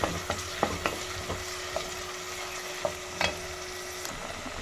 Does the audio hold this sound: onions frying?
yes